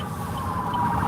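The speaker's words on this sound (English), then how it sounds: "you're gonna have ambulance going back and forth" Ambulance siren passing along a street in Hawaii, a steady wailing tone sounding loud and continuous over traffic rumble.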